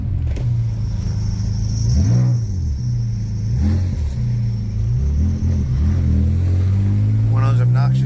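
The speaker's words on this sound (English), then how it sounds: "One of those obnoxious people revving the car on the strip." Car engine revving on the Las Vegas Strip at night, a deep rumbling exhaust rising and falling through several revs, heard from a nearby car with a steady idle rumble underneath.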